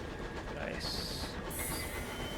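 Space train moving in the video game Sunless Skies, a continuous rumbling, rattling rail-like roll with a steady hiss and soft, faint clatter throughout.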